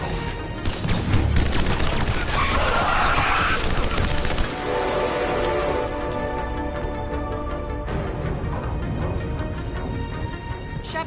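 Sustained video-game gunfire from the shooter Mass Effect 3, dense overlapping bursts and booms filling the mix for most of the stretch, thinning out toward the end, with no talking over it.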